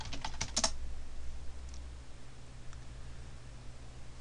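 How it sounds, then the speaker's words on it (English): A short flurry of key presses on a computer keyboard while entering a password during OpenSUSE 11.2 system setup, close and quiet, followed by faint hum and a couple of stray taps. "type your password in"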